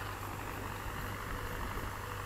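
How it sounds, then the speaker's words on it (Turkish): Exhaust of a Lotus tractor engine running steadily nearby during sunflower sowing, a continuous low, even drone with a faint rapid putter and no talk over it. "Lotus'un egzozunun sesi de gerçekten çok güzel geliyor."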